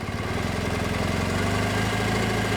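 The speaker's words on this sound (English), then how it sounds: "So it idles at 1100 roughly." A motorcycle engine idling in neutral at about 1100 RPM, a steady low throbbing pulse close by, even and unbroken throughout.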